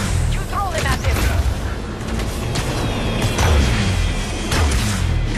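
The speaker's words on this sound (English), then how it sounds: "I throw the bomb!" Loud combat in the Spider-Man PS4 game, with booming blasts, crashes and mechanical clatter running throughout, under voices calling out.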